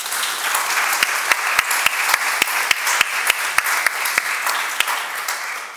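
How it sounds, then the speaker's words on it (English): Steady applause from a conference audience after a panel session on macroprudential policy, dense and sustained throughout, with a few sharper individual claps standing out near the front. "So big applause for our panel."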